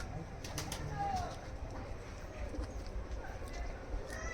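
Kalduma pigeons in a loft make soft, low cooing and rustling, with the flutter and shuffle of birds nearby, under a steady background with faint talk.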